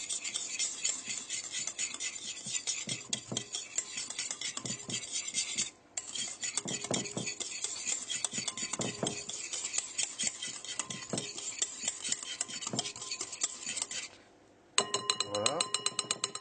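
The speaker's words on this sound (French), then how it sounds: "Et là, je mélange le yaourt donc, au lait que je viens de mettre à l'intérieur." A utensil stirs yogurt into milk inside a bowl with rapid, steady scraping and clinking strokes. There is a brief pause, then a sharper burst of clinks at the end.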